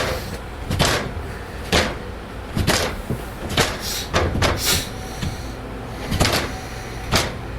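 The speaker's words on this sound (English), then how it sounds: "the attic door starts rattling jarringly" An attic door rattles repeatedly at night, giving about a dozen sharp knocking clatters at irregular intervals, fairly close and loud over a steady background hiss.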